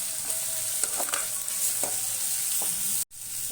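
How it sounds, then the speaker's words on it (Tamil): Steady sizzling and crackling of onions frying in a pan, with occasional scraping stirs, ending in a brief silence. "நல்லா வதக்கிட்டேன்."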